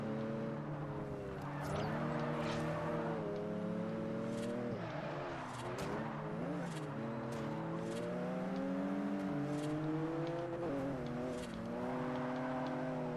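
A BMW in Forza Horizon drives with a steady engine whine whose pitch rises and falls through gear changes and throttle lifts, loud and continuous with no talking.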